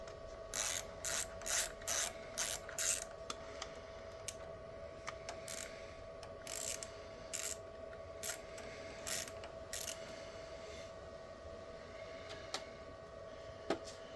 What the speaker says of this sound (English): We're going to take this screw out.